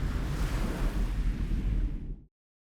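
Ocean waves and surf make a continuous, loud roar of breaking water with a deep rumble. The sound cuts off abruptly just past two seconds, leaving silence.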